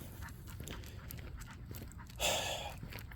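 A young, playful Bull Terrier pants in quick rhythmic breaths close by, with a brief louder burst of noise near the end and no speech.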